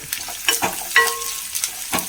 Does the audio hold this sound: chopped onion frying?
yes